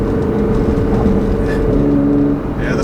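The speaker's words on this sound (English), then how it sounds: "this car feels so good going fast" A tuned 2015 Nissan GT-R with Meisterschaft exhaust and GFB blow-off valves accelerates hard, its engine a loud, sustained close-up drone heard from inside the car.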